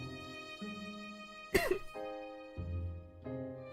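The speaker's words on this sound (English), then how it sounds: "If you hear me coughing" A person's single short cough, a sudden burst near the middle, set against a faint sustained tonal background.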